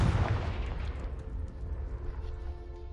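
A Confringo fire spell explosion in the video game Hogwarts Legacy, a single heavy boom at the start that rumbles and fades away over the next few seconds.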